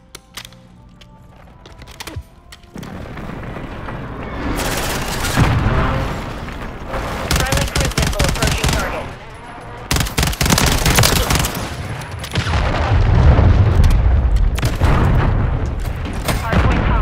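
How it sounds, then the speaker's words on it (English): Precision airstrike in Call of Duty MW3 lands as a loud run of booming explosions and rapid gunfire-like blasts, building after a quieter start and rumbling on through the rest of the stretch. "Friendly precision airstrike inbound."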